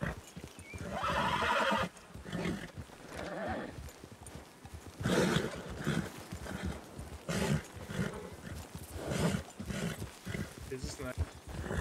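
Spooked horses in the Red Dead RedM game whinny and neigh repeatedly while hooves clop around them, loud bursts of agitated calls mixed with voices talking over the commotion.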